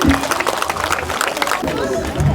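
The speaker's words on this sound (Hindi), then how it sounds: "तालियां बजाइए इनके लिए" Audience applause at an International Yoga Day gathering, a dense, steady patter of many hands clapping with crowd chatter and voices mixed in throughout.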